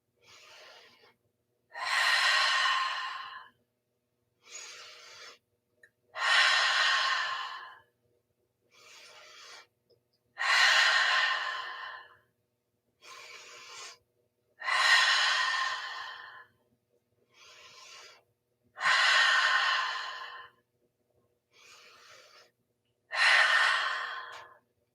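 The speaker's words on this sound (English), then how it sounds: "begin inhaling big and boldly through the nose and exhaling boldly as well out through the mouth" Deep breathing repeats alone and close up, in pairs: a shorter inhale through the nose, then a longer, louder, rushing exhale through the mouth, about five cycles in an even rhythm.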